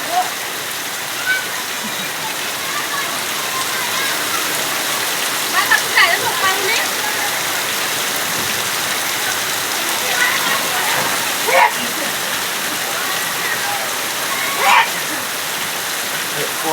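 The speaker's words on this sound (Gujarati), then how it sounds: "પાણી વરસાદ પડે ને જુઓ" Heavy rain pours down in a dense, steady roar of water hitting surfaces, loud and close throughout, with a few faint splashes and people talking quietly underneath.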